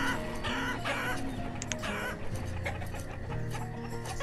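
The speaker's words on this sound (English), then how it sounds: "Chickens are going crazy." Farmyard chickens cluck and squawk in the city-building video game Banished, with a busy overlapping chorus of hens and a few sharp higher calls over a low, constant ambient background.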